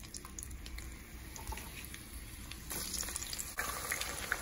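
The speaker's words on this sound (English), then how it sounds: "we let them, the onions cook for a couple of minutes until they become nice and soft" Onions and garlic cooking in extra virgin olive oil in a pan, a steady sizzling hiss that grows louder and busier toward the end, with no talking.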